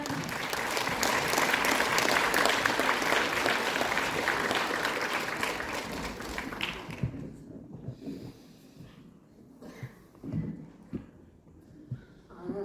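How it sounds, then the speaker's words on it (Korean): A large audience at a Bucheon City Hall lecture on consumer trends gives a loud, sustained round of applause for about seven seconds, which then fades to a few scattered claps and room noise. "이수진 연구위원님을 큰 박수로 모시겠습니다."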